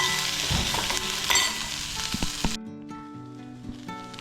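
Onions frying in a pan for methi and vatana subji, a steady loud sizzle with a few stirring clinks, then the sizzle cuts off abruptly, leaving quieter clatter.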